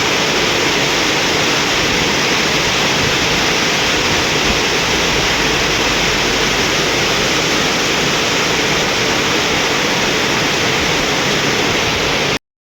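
Very heavy rain pours down without a break, a dense, loud, steady roar of water close by, with no voices.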